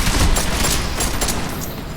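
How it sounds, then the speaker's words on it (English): Dense gunfire rattles in Deus Ex: Mankind Divided, loud, rapid overlapping shots in a continuous barrage. "now I'm getting shot to shit because reasons"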